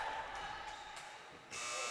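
A basketball game-clock buzzer sounds at the end of the first quarter of a women's high school game, a sustained electronic tone holding for about two seconds over gym ambience.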